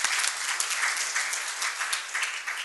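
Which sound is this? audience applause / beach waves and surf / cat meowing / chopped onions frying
audience applause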